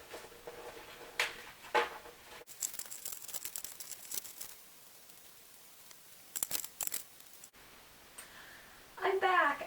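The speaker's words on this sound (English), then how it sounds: "Now I'm going to need to shuffle up my cards, so I'm going to do that now" Shapes playing cards are shuffled by hand in short bursts of riffling, snapping and crinkling, close and clear, separated by quiet pauses, with some faint vocal sounds near the end.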